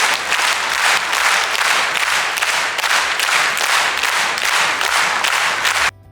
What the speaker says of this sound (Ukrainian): Для них на знак вдячності та пошани тисячна зала аплодувала стоячи.